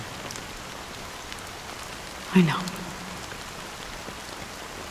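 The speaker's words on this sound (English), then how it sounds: "But it's still raining." Rain falls in the video game Honkai Star Rail, a soft, even patter that continues throughout, with a brief voice cutting in midway.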